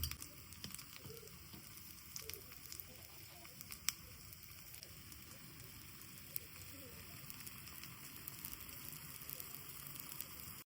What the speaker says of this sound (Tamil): சூடானதும் கொஞ்சமாக எண்ணெய் ஊற்றிட்டு பீட் பண்ணி வச்ச முட்டையை சேர்த்துக்கலாம்